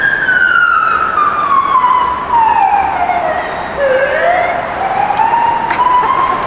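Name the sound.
police car siren in traffic, Russia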